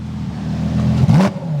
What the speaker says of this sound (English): Could you rev the V10 real quick?